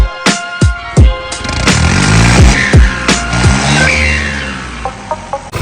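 Engine of a 3630 tractor starting and settling, with a few sharp mechanical bursts then a loud, steady diesel rumble close by, pulsing slightly as it idles before trailing off into clanks.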